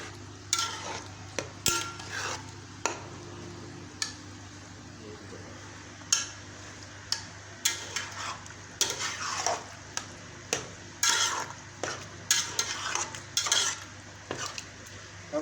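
A spoon stirs chana dal into masala in a pan at home, giving repeated scraping clinks against a steady faint sizzle and low hum, with no talking.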